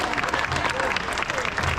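A crowd of spectators claps at a tiger show at Dream World on the Gold Coast, with brief, fairly close applause mixed with crowd murmur and some voice.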